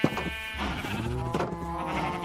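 Sheep bleat in a long wavering call that breaks into a second bleat, loud and near against a busy background.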